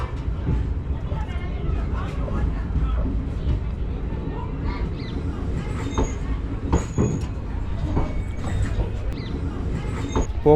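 A train at Pokhran railway station in the Thar desert rumbles steadily with wagon clatter and brief squeals, close and continuous, while voices talk faintly in the background.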